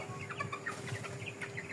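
Chickens cluck and chatter steadily in an indoor coop fenced with plastic netting, several birds calling at once at close range with no speech.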